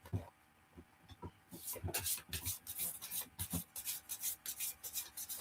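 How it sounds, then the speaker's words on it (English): Cards are shuffled close by in a quick run of rhythmic riffling bursts, brief and crisp, after a quiet start. "they're making me shuffle this one"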